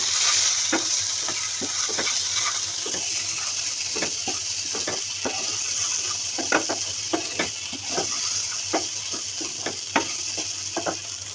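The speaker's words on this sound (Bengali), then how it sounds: "এবার পানি দিয়ে দিব" Dried fish curry hisses steadily in a pan after water is poured in, with a continuous loud sizzle and frequent quick bubbling pops and light stirring clicks throughout.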